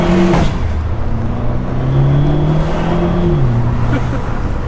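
An Alfa Romeo car accelerates hard, its engine note climbing through steady rising pitches as it pulls away up close, loud and continuous.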